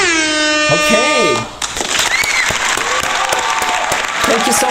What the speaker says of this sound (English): Big round of applause to our participants.